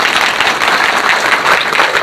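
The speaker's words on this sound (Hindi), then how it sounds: "नारी शक्ति के लिए जोरदार तालियां एक बार" A loud, dense burst of audience applause at a women's business gathering, continuous clapping close and full throughout with no talk over it.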